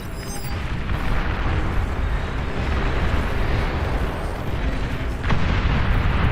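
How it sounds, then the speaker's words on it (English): A nuke detonating in the real-time strategy game Beyond All Reason: a loud, sustained roaring rumble of explosion noise lasting several seconds, with a fresh burst of intensity near the end. "It's a nuke."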